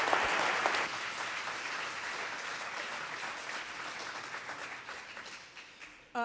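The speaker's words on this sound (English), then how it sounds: "let's give Erin a round of applause" A church congregation at a Seattle Unity service breaks into warm, full applause for a guest, a broad, continuous clapping that holds steady and then thins and tapers toward the end.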